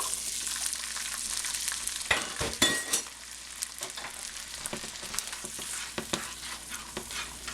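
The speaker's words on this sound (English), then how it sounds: "We're going to cook these till the butter gets brown, kind of braising the chickpeas." Chickpeas fry in butter in a pan with a steady bright sizzle, punctuated by occasional stirring scrapes and clinks, close and alone without talk.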